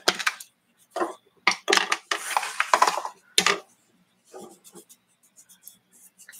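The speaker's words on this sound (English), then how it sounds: "we gotta mix the slime for 1 minute" Slime is stirred in a container with scraping, clicking strokes in irregular bursts, loud at first and then fading to faint taps, heard close up without talk.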